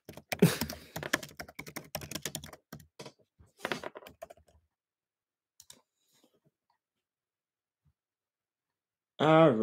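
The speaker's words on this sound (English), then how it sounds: "I'm typing in Byakugan." Rapid computer keyboard typing clatters close up during a live stream, dense bursts of key clicks for several seconds that thin out into scattered taps and then stop.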